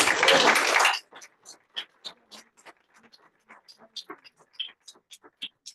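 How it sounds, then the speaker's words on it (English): Applause from a church audience during a Q&A with a denomination's president: a dense burst of clapping for about a second, then cut off, followed by scattered soft taps and faint talk. "Can we, just run another round of applause."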